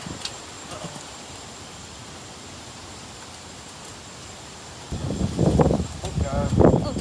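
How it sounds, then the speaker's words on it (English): Strong gusty wind tossing leaves ahead of a thunderstorm and a shelf cloud, a steady broadband rush that grows louder and more turbulent in the final two seconds. "And now it's getting really windy."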